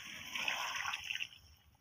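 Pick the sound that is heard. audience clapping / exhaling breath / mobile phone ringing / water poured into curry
water poured into curry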